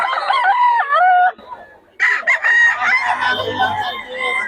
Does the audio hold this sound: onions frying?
no